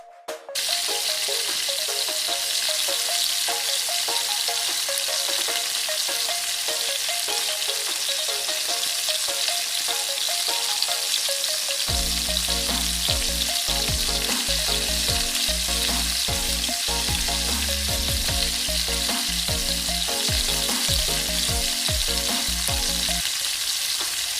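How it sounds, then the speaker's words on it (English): Chicken seekh kababs fry in half a cup of oil over a medium flame, a steady close sizzle and crackle that grows louder and denser partway through, with bursts of spattering oil and no talk. "Fry on medium flame from all sides until golden brown"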